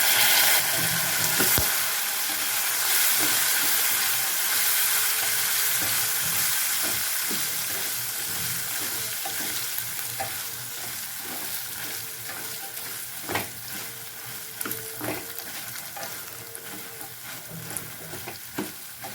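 Crispy corn stir-fried in a pan with chili powder, salt and soy sauce, giving a steady close sizzle with scraping stirring strokes and occasional clicks of the spatula, no talking.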